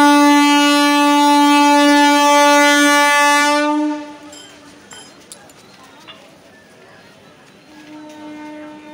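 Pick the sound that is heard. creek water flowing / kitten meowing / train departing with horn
train departing with horn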